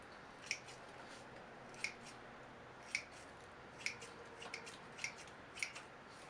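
Scissors clipping juniper bonsai roots off the bottom of the root mass, a quiet sequence of seven or eight close, crisp snips at an uneven pace over faint background noise, without speech.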